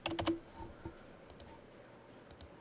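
A few sharp computer mouse clicks during work in Inventor CAD software, a quick cluster at the start and then sparse faint clicks spaced apart, close and quiet with no talking.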